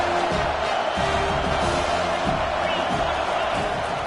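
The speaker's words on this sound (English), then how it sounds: "Decibels rising as the crowd gets behind this defense on third down." A college football stadium crowd roars for the defense on a third down, a steady, loud wash of cheering and noise with a commentator talking over it.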